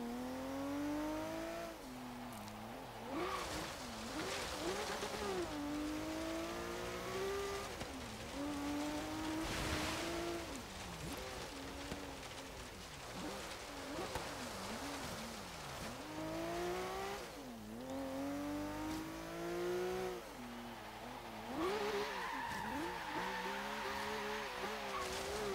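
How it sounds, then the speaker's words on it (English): A 1971 Meyers Manx in Forza Horizon 3 on an autocross course, its engine revving up and down in repeated rising and falling sweeps as the tires squeal and slide through turns, steady and close. "Really does like to slide this car."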